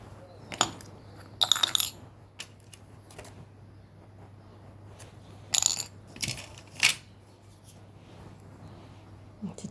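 Small metal charms, including a turtle and a palm tree, handled and clinking together, a few sparse light jingles and taps with quiet gaps between them, close by and without speech.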